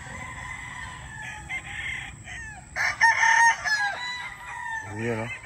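A bulik gamefowl rooster crows loudly nearby and clucks in short bursts, with softer farmyard background noise between calls.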